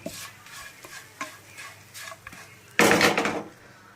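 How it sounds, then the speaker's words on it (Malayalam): Soya chunks being stirred with roasted coconut pieces in a pan, a few soft scrapes and clinks of a spoon against the pan, then a loud burst of sizzling and stirring near the end. "അവിടെ നമുക്കിതൊന്ന് ചെറുകിയ ഇളക്കാം"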